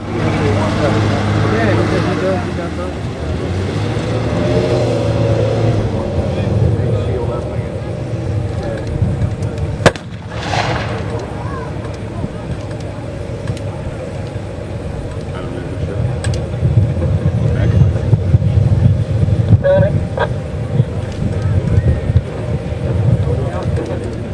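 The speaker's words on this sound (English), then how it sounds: "Now another scout car is going to move forward." A military scout car rolls forward at a museum demonstration, its engine a steady low rumble over about twenty-four seconds, with a voice talking throughout.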